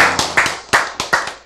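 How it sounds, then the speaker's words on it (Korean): Sharp hand claps, about eight close and loud strikes in an uneven quick rhythm, each with a short decay, alone without talk. "박수."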